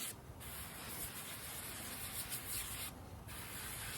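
An aerosol can spraying onto the shocks of a Traxxas Slash RC car in a continuous close hiss, with two brief breaks where the spray stops and restarts.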